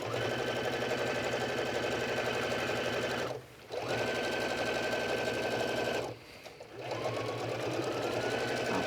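A sewing machine top stitches a fish-shaped beach bag with a close, continuous whirring hum, broken by two brief pauses before it runs again.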